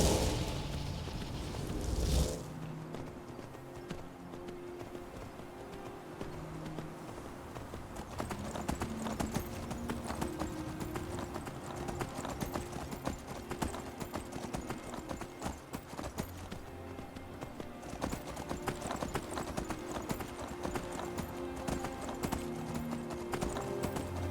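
An armored horse trots in the Skyrim video game, its hooves clip-clopping in a steady rapid rhythm over a continuous game soundscape, after a loud burst at the start.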